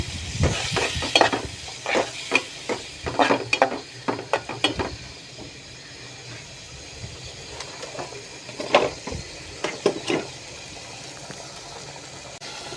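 Biryani being stirred in a pot with salt just added: scraping, clattering spoon strokes come in irregular bursts over a soft sizzle, with a quiet pause in the middle before more stirring.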